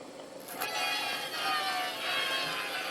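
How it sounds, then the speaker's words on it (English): An Aristone tabletop radiogram's turntable motor runs with a steady, faint hum and soft whirring, a low continuous drone with no speech. "I'll actually attach some power to it and we'll just see how well it spins"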